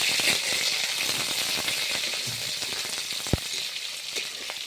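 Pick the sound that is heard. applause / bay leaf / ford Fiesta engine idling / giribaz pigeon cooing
bay leaf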